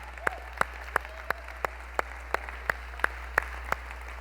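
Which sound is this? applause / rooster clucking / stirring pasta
applause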